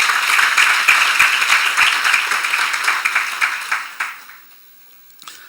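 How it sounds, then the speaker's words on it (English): A conference audience at a European regional meeting claps loudly in sustained, dense applause that thins out and fades to near silence in the last second, with a few scattered claps after. "Please give them a round of applause."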